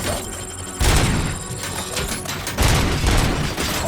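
Gunfire from RoboCop: Rogue City: a loud close burst of heavy shots hits, followed by steady rattling fire and a second heavy burst, with no voices.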